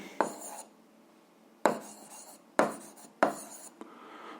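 A pen writes out a fifth-grade math exercise solution on paper: four separate bursts of scratchy strokes, close and fairly quiet, with short silent pauses between them.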